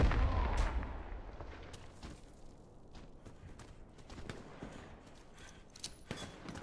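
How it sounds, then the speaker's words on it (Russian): A grenade blast in the shooter game Warface, a heavy low boom at the start that fades into rumbling debris, followed by scattered mechanical clicks, creaks and footsteps, close and loud at first, then quieter. "Осторожно, граната!"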